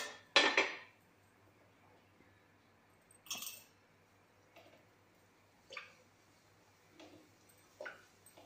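Homemade gulab jamun made with milk powder being set out onto a plate: a loud clattering knock of utensil on dish at the start, then a handful of lighter, spaced clinks and taps, close up with no speech.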